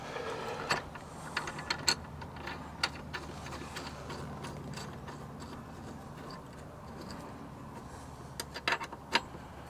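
Mounting bolts for an SW-Motech luggage rack being tightened on a Honda Transalp 750, giving faint ratcheting clicks and small metallic mechanism ticks scattered over steady background hiss, with a short burst of clicks near the end.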